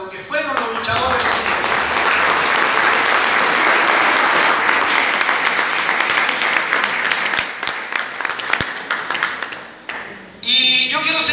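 An audience at a union chapter's inauguration event applauds for about ten seconds, dense steady clapping that thins out before a speaker's voice returns at the end.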